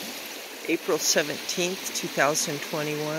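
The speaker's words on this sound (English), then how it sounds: "Isn't it beautiful running down Bear River?" Bear River running at about 94 cubic feet per second in mid-April, a steady rushing wash of water under someone speaking throughout.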